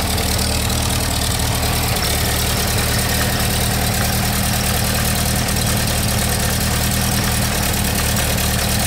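Ford GT40 replica engine idling steadily, a continuous low rumble with a dense, even drone throughout, close and fairly loud with no talk.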